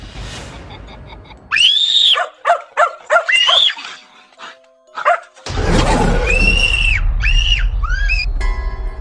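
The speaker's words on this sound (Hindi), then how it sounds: "अचानक से कुत्ता आता है और भौंकने लगता है।" A dog barks and yelps in short bursts over a dark, eerie ambient bed in a horror reel, with high whimpering yips in irregular clusters, loud and close, and a rushing noise swelling behind the later barks.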